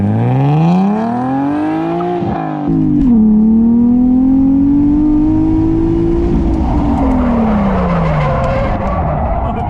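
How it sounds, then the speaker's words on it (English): A car built as a daily drifter slides through a drift, its engine revving loud and close while the tires squeal and skid continuously, with pitch rising and falling. "So now let's see how it drifts."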